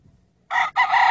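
A rooster among hens crows loudly up close, a bright brassy call broken by a short pause, after a faint low rumble.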